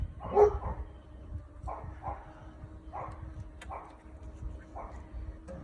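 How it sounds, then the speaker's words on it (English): A dog lets out a series of separate barks, about six in a loose rhythm, moderately close in a quiet setting with some low background rumble. "Gotta bark at the mailman. It's just what the dogs do, don't they?"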